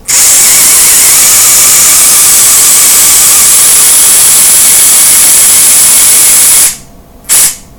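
Upgraded motor of a 1/24 scale RGT/FTX rock crawler whines loudly and steadily, a high-pitched electric buzz held for almost seven seconds before cutting out, followed by a brief second burst.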